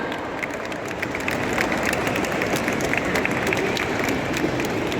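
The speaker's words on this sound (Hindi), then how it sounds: "सबकी एक जोरदार तालियां हो जाए सबके लिए भी" An audience at a cancer awareness event organised by a hospital oncology institute claps steadily, a dense even patter of many hands heard throughout.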